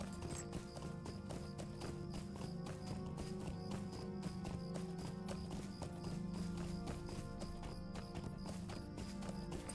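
Steady hoofbeats of a horse in the video game Lord of the Rings Online clip-clop without pause over a dense, continuous bed of music and ambience, the rhythm of a horse moving at pace.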